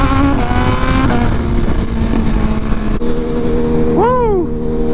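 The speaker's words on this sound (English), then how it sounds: "this bike sounds so good ripping" Riding a BMW S1000RR, the engine drones loudly at steady high revs against wind rush, then the pitch swoops up and drops as the rider works the throttle.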